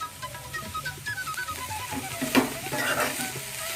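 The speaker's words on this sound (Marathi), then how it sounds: "ते आपण सर्व भाजीला लागण्यासाठी ढवळून घ्यायची" Cowpea leaf greens being stirred with salt in a pan give a soft, rhythmic scraping swish over a low steady sizzle, with a brief clink of utensil on metal near the middle.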